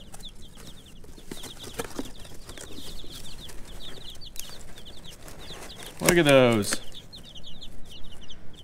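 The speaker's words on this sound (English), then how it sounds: "These are called golden comets. They're a hybrid." Golden comet hybrid laying-hen chicks peep in quick, high, scattered chirps close by, with one louder, longer call partway through, as a person speaks briefly over them.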